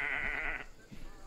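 Goats bleat in the Assassin's Creed Odyssey video game, a single loud, sustained nasal cry lasting just over half a second, followed by a fainter, shorter bleat.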